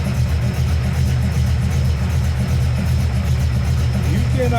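A carbureted OBS Ford truck engine, swapped over from TBI, idles steadily right after startup with a loud, continuous low rumble, while a voice talks briefly near the end.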